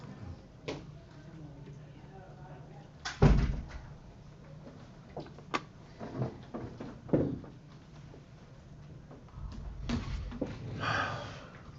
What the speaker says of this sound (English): Peer tutor, could you close that door for me